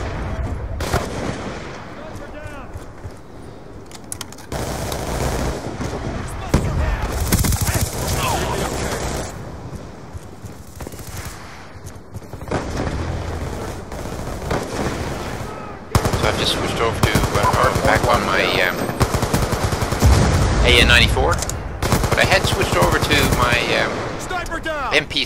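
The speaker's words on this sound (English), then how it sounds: "MP7, which is a submachine gun. It's got a faster rate, 900 rounds per minute." An MP7 submachine gun fires on full auto at about 900 rounds per minute in a Call of Duty: Black Ops 2 Hardpoint match, with loud, rapid bursts repeating against other game gunfire.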